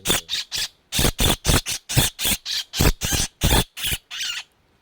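A tengkek udang kingfisher gives a rapid series of about fifteen loud, harsh squawks close by, evenly spaced calls that break off after a brief pause near the end.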